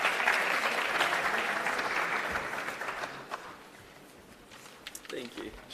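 Audience applause at the close of a panel discussion at a youth trade convention, a dense, steady wash of clapping that slowly thins out and fades, with a few scattered voices near the end.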